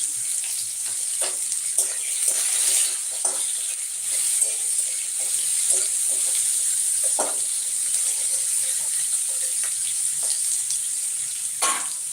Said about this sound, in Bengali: তারপর কাঁচা লঙ্কা এরকম মুলোগুলো ভেজে নেবো